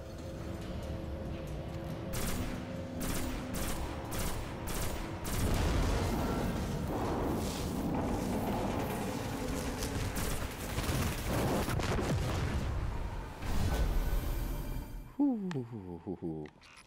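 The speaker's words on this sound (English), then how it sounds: "Pulse rifle, close range." Close-range pulse rifle fire in the video game Destiny, dense rapid bursts crackling over a busy battle mix with music and effects, ending in a rising electronic sweep.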